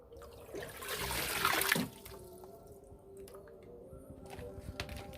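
Water drains out of a guppy fish tank with a short, soft gurgling rush that fades after a couple of seconds into quiet trickles and drips.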